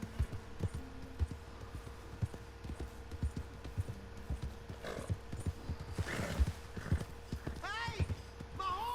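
Horse hooves clip-clopping at a steady walking rhythm in Red Dead Redemption 2, fairly close, with a brief neigh or whinny near the end and game voices talking over parts of it.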